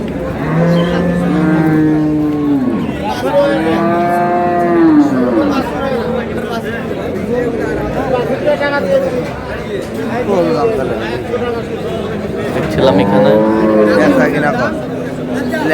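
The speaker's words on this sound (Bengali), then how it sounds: "হাঁটান তো একটু বেলাল ভাই গরুটা হাঁটান তো একটু দেখি পা গুলার কি সমস্যা আছে নাকি" Cows and a cow with her calf at a busy rural cattle market in Bangladesh, with low drawn-out moos rising now and then under constant crowd chatter and nearby talking.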